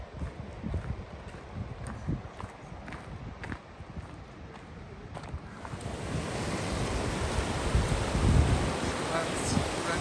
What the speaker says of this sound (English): Got this river right here. It's flowing down and it's coming together with a whole different river over here.